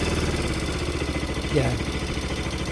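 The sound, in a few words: Bajaj Pulsar RS200 motorcycle engine idling after starting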